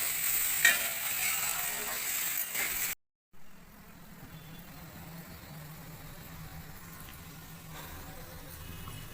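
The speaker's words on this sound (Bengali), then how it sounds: "ভালো করে পেঁয়াজের সাথে আলুটা লাল লাল করে ভেজে নেব" Potatoes frying with onion in a pan, a bright sizzle for a few seconds, then a short gap and a quieter, steady low crackle and hiss that continues alone.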